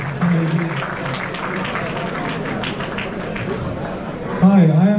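An audience at an NIT Jamshedpur alumni meet in Atlanta claps steadily for several seconds, a dense wash of hand claps with crowd murmur and voices mixed in, swelling slightly near the end.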